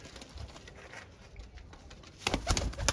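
Slate-grey pigeons at a breeder's loft give soft, low cooing and rustling close by, quiet at first and growing busier toward the end, with light pattering and fluttering among them.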